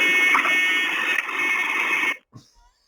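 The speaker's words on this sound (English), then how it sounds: "why is there an alarm? Why is there a buzzing sound?" A TriMet bus rear door alarm buzzes steadily over a radio channel, a harsh continuous electronic tone lasting about two seconds before stopping, followed by a brief faint click.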